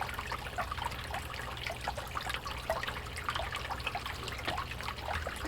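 Water flows through a home-made sluice used to recover gold and precious metals, making a faint, steady trickle with scattered small splashes and no talking.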